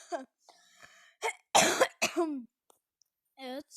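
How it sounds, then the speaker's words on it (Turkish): A sharp, close cough bursts out between short fragments of a person talking, with quiet pauses around them. "Biraz öksürdüm."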